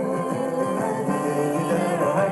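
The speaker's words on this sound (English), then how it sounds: "That's the sound of the radio." An old 1920s-style radio plays a faint, muffled, continuous broadcast with a thin, boxy tone and some hiss, steady throughout the short stretch.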